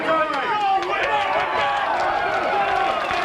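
A fight crowd at a Minnesota Fighting Championships event reacts to a judges' overtime decision, with dense, steady cheering and shouting and scattered clapping.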